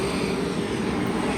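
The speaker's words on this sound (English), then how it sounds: "I don't like it when the airplanes are too loud." Airplane engine droning steadily overhead near a historic pioneer village, a continuous broadband roar with a low hum, no voices present.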